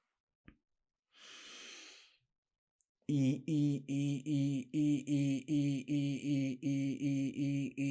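A single long, deep breath is drawn in to fill the belly, and then a voice repeats the same short rhythmic sound in a steady, evenly spaced series.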